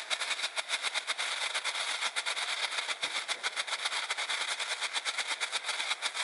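Rapid string of firecrackers bursting during New Year's Eve celebrations, a dense crackling volley of sharp pops at steady loud level, with no voices heard.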